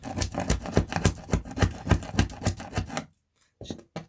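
Softened ballast is scraped off model railway track in quick, rhythmic rasping strokes, close and fairly loud, then falls silent briefly before a few more scrapes.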